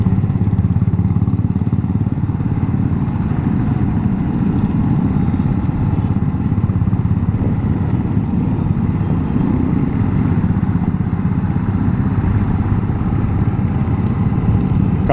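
Motorcycle engines of a group bikers' breakfast ride in Delhi, including KTMs, a Harley, Royal Enfields and a Kawasaki Z800, rumble steadily and loudly at close range, a continuous low idling and revving drone throughout with no talk.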